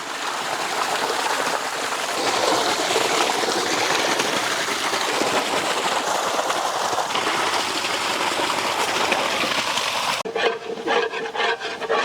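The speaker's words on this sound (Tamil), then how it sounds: "நல்லா கழுவி எடுத்துக்கலாங்க" Fish being washed in flowing water in an outdoor village kitchen while preparing a Jilebi fish curry, a steady close splashing and trickling that runs continuously before ending in a short burst of sharper, broken splashes.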